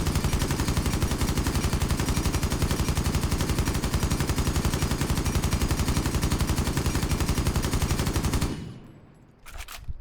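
Sustained rapid automatic gunfire from Fuze's rifle fitted with a flash hider in Rainbow Six Siege, a loud continuous burst of shots that cuts off abruptly near the end, followed by a brief quiet and faint clatter.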